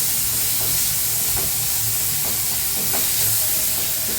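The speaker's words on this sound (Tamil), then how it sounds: "இதில் தக்காளியை சேர்த்துக்கணும் நல்லா இதை கலந்து விட்டுடணும்" Chopped tomatoes frying in a pan for a mutton spleen fry, with a steady loud sizzle and hiss and soft scraping stir strokes repeating every second or so.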